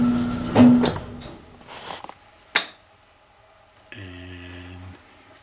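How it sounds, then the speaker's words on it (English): Pneumatic relay-driven door on a homemade elevator project opening in cold conditions, heard as a few sharp clicks and clacks followed by a steady mechanical hum near the end, with no talking. "it'll go through a cycle, and you'll see the door open."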